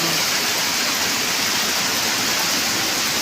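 Flash floodwater from a typhoon spilling over a dike in a flooded neighborhood, a loud, steady, close rushing roar of water that never lets up across the whole short stretch.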